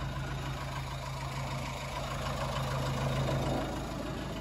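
A diesel truck engine runs after a cold start, a steady low idling drone heard close and alone, holding an even tone throughout with a slight swell near the end.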